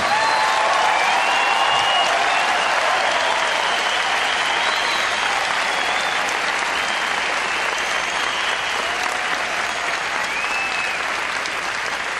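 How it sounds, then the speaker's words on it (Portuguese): A church congregation at a service applauds steadily and loudly for the whole stretch, a dense sustained roar of many hands with faint cheering and voices mixed in. "Eu gostaria que você desse um aplauso ao Senhor pela vida do pastor Fadi"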